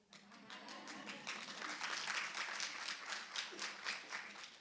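An audience claps at a speech, a brisk ripple of hands that rises and stays lively for several seconds, heard at moderate distance in a hall.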